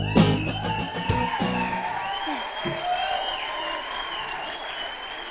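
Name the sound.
audience applause and cheering at awards ceremony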